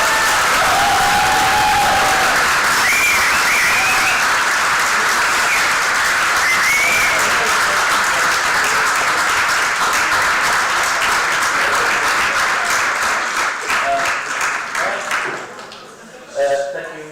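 An audience applauds at an Erasmus Student Network Switzerland national assembly in Luzern, with steady, dense clapping that fills the room for many seconds before thinning out at the end, a few voices mixed in.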